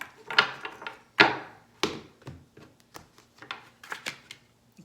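A deck of tarot cards is shuffled by hand in quick, uneven bursts of riffling and soft slaps, with short pauses between them, close and fairly quiet.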